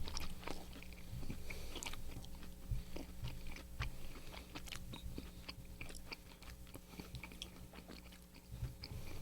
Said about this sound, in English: This guy chews like a camel.